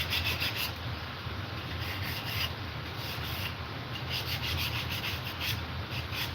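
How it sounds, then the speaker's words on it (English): Wooden shelves being sanded by hand with 180-grit sandpaper, giving a steady rasping rub in rhythmic back-and-forth strokes, close and continuous with no talk. "Maybe I should try lighter grit. Let me try this 180."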